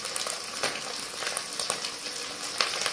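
Green chillies and curry leaves crackle and spit while frying in hot oil alongside dried prawns, a dense continuous sizzle with sharp pops scattered throughout, close and steady, no voices.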